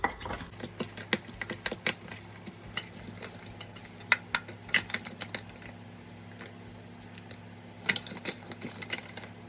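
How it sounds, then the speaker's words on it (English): Raw shrimps tossed with salt and turmeric in a bowl, giving irregular sharp clicks and taps of mixing, close and fairly crisp, with no talking. "So I add some salt and turmeric to the shrimps and mix it."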